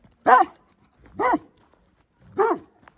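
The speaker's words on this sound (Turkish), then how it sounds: "Havlayan köpek Isırmaz." A dog barks three times at a steady pace, each bark short and close with brief silence between them.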